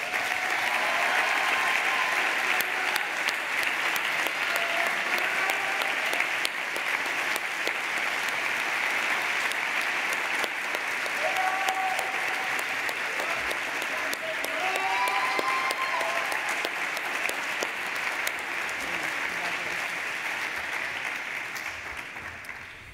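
Sustained audience applause fills a banquet hall at a presidential foundation scholars award dinner, steady and full for over twenty seconds with a few voices and cheers scattered through it before it starts to fade at the end.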